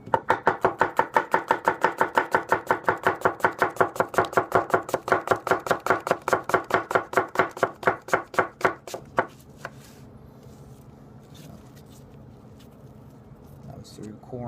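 Gassan 210 gyuto knife slicing through dense produce, core and all, in a steady rapid rhythm of crisp cuts against a board, close and loud, then stopping and giving way to quiet handling noises.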